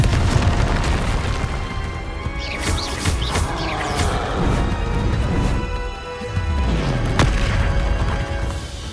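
Confringo explosion spell blasts in Hogwarts Legacy, a loud sustained rumble of booms and crashes with sharp bursts layered over continuous game noise.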